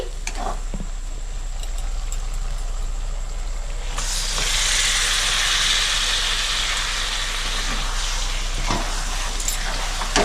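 Chicken pieces go into a pan of frying masala that has cooked down until the oil separates, giving a sudden loud burst of sizzling that settles into a steady hiss, close by and with no talking.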